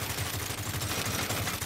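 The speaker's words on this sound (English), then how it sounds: "Idols on jet skis with machine guns!" Rapid, steady machine-gun fire from jet skis in Saints Row, a continuous fast rattle that is dense and loud throughout.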